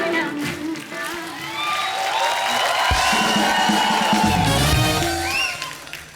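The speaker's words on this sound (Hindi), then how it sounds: "जोरदार तालियां हो जाए" A studio audience applauds and cheers enthusiastically on a comedy talk show as an actress is welcomed. Loud, continuous clapping is mixed with whoops and cheering, and an announcer's voice carries over the top.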